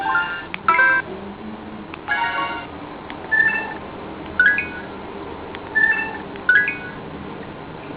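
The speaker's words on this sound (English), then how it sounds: "Everything you press, it makes a noise." An old flip phone sounds a short electronic beep each time a key is pressed, about six separate tones spaced irregularly, close and clear over light background noise.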